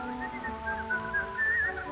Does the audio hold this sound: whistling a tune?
yes